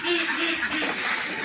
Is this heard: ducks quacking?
yes